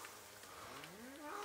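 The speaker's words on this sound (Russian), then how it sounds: "Вот сейчас это уже другая съемка коровы с телятами." Cows with calves mooing on a farm, a long drawn-out bellow rising in pitch, heard alone at moderate volume against a faint background.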